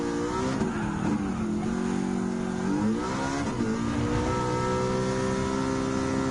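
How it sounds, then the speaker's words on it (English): A blue Dodge Viper GTS race car in Gran Turismo 7's American Clubman Cup screams through the gears, its engine revving up and dropping with each shift, loud and continuous. "here comes the 10th position driver is Regalado on the blue Dodge Viper GTS."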